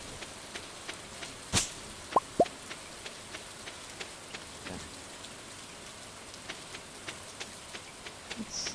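Steady rain from the video game Stardew Valley, a soft continuous patter with scattered drop plops and a few sharper taps, heard alone at a low, even level.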